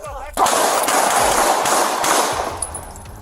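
Loud, dense gunfire erupts during a police incident, a sustained rapid burst filling the clip after a brief quieter start, then tapering slightly toward the end.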